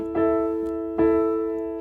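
Two sustained piano chords in A struck as quarter notes, each attack ringing clearly and decaying into the next, close and alone.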